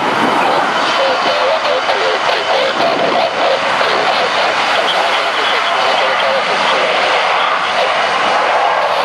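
A Eurowings Canadair CL-600-2D24 CRJ-900LR regional jet taking off at Dublin, its engines making a loud, steady, broadband roar that holds without a break throughout.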